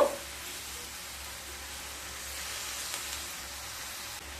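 Grated radish frying in a pan over high heat with a pinch of turmeric, a soft steady sizzle and hiss running continuously with faint stirring, quiet and without talk.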